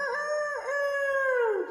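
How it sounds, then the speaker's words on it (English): A rooster crows once, a long, loud, drawn-out call close by, its pitch rising and then trailing off. "We have the chicken rooster that crows every morning"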